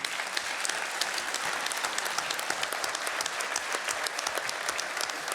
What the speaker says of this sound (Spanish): pedirle un fuerte aplauso para su gestión